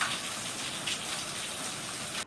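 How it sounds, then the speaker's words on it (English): Rain falls steadily as a dense, even hiss of water close by. It runs continuously, then cuts off abruptly at the end. "Oh, it's raining."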